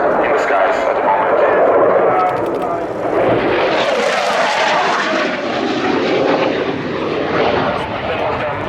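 Military jet aircraft passing overhead during a flying display at the Royal International Air Tattoo air show, a loud sustained roar that swells and shifts as the plane crosses, with a commentator's voice beneath it.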